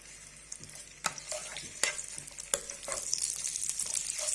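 Soft sizzling of ginger garlic paste frying in butter, with a few sharp clinks and scrapes of a spoon stirring the pan, close and fairly quiet.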